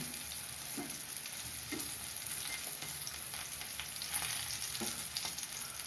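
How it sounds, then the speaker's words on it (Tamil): Brinjal pieces shallow frying uncovered in an open pan over low heat, a steady soft sizzle with a few faint scraping stirs, no voices. "சிம்மில் வச்சு இப்படி திறந்தே வேகட்டும் ஒரு அஞ்சு நிமிஷம் வேகட்டும்"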